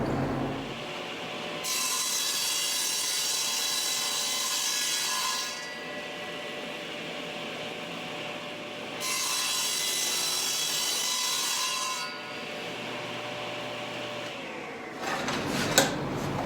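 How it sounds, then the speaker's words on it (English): A saw cutting wooden shelf boards in a woodworking shop: two sustained passes of a few seconds each, with the motor idling between them and a brief clatter at the end, heard up close with no voices. "So I'll bring those over to the saw and we'll get them cut."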